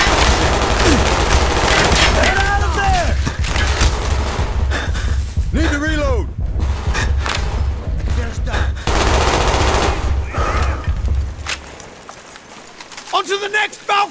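Sustained loud gunfire and bursts of machine gun fire fill a battle scene in the video game Call of Duty Black Ops, with soldiers shouting throughout.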